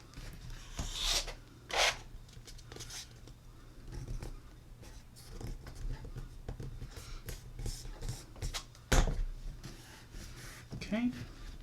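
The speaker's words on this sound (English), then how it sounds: "I'm going to fold this little tiny corner in on each side. Just use my fingernail." A fingernail presses and slides along a folded paper corner, making soft, quiet scraping and rubbing strokes in short bursts with brief pauses between them.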